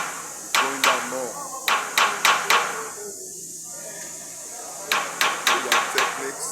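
Rapid hammer blows on a compressor stud bolt come in quick clusters of sharp, ringing metallic strikes, close and loud, with a brief pause between bursts.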